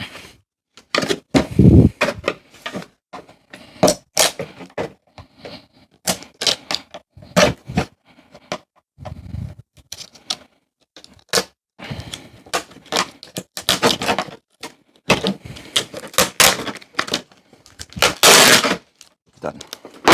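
Mylar layers are peeled back from a scrapped treadmill console with a screwdriver, giving irregular sharp crackles, tearing bursts and clicks in quick clusters separated by short pauses, loud and close.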